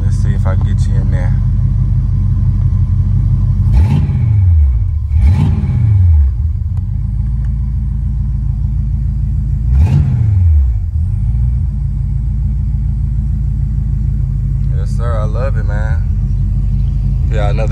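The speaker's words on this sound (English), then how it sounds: "Oh, you see at 165, I can get y'all a good rev up." A big-block 1986 Buick Regal Limited G-body with Holley EFI rumbles at a loud, steady idle, its engine note swelling in a few short rev blips, with someone talking over it.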